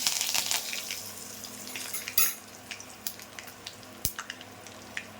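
Asafoetida and curry leaves sizzling in hot oil in a pan for aloo bhindi, a soft steady frying crackle with sharp pops and spatters, plus the clink of a utensil against the pan.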